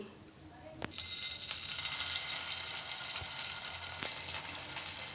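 Sabudana-coated cutlets sizzle steadily in hot oil on a tawa, a constant bright hiss with occasional soft clicks and taps, while a voice talks faintly underneath.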